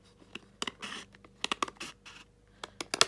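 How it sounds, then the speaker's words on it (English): Scissors snipping through packaging for a baby item, a quick run of close, crisp cuts and scratchy crinkles in irregular bursts, with short pauses between them and a cluster of sharper snips at the end. "So just take your scissors and cut as much as you can."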